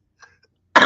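A single close, loud cough bursts out abruptly at the very end, following near silence broken only by a few faint soft sounds.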